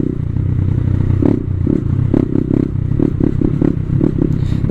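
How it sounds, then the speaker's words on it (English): A 2015 Honda Grom single-cylinder motorcycle with a Tiger Performance exhaust, a loud close-up thumping idle and throttle blips with a choppy, dirt-bike-like beat, no voices. "I've got a Tiger Performance exhaust on this, and it's not a bad sounding bike."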